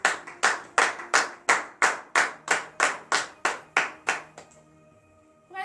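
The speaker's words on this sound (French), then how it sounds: "Donnez de vives acclamations à cette parole." A congregation at a Saturday morning prayer service in Comè, Benin claps in a steady unison rhythm, about a dozen sharp, loud claps, then falls quiet with a faint lingering hum.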